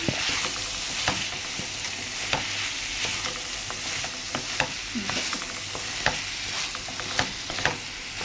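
Curry fries on a low flame as chili powder is stirred in, making a steady close sizzle with regular spoon scrapes and taps against the pan and no talking.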